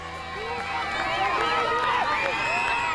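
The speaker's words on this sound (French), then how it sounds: "la population, sortie nombreuse, acclame le coureur" A large roadside crowd cheers and shouts as the peloton passes during a stage of the Tour du Rwanda 2018 bicycle race, with children's voices among a steady, loud wash of excited yelling and babble throughout.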